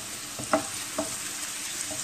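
Gourd frying in a pan as it is stirred: a steady background sizzle with a few short scraping stir strokes, close and fairly loud, no voices.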